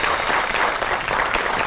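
A television studio audience on an Eid special entertainment show claps for a guest, a brief, loud, dense burst of applause with no gaps.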